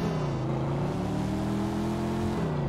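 A tuned car's engine in Mafia 2: Definitive Edition drones steadily while driving, its loud, even hum holding close and constant with slight pitch shifts, with no voices.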